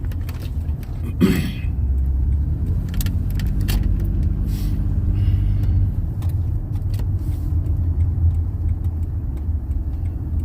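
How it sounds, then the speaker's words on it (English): A used car idles and rumbles while being parked during a test drive, a steady low engine drone with a few clicks and a short jangle near the start. "So we're about to park here."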